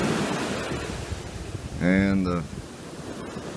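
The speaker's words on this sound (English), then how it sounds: "waves are really coming in" Ocean waves break and wash onto the beach at Englewood, Florida, a steady broadband surf roar with wind across the microphone, while someone speaks briefly midway.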